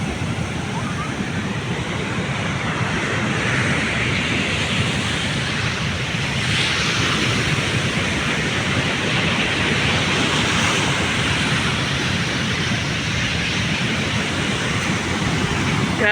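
Large ocean waves at Siargao roar in a steady, continuous wash of surf with some wind, loud and unbroken throughout.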